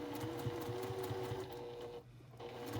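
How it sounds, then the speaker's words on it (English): Sewing machine stitching down quilt binding, a close, steady mechanical hum with evenly spaced stitch pulses and a brief pause near the end. "I'll take it over to my machine and I'll finish up this very last bit of stitching"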